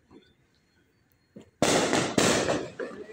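Fireworks and firecrackers going off at New Year, a few faint pops first, then a sudden dense roar of loud overlapping bursts and crackling that continues to the end.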